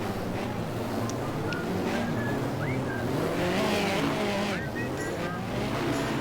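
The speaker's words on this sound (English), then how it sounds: "Away they go for 20 laps of racing here at the Brayfield Stadium." Classic hot rod race cars pulling away at the start of a 20-lap final at Brayfield Stadium, a pack of engines roaring and revving with rising pitches over crowd noise, while a commentator talks throughout.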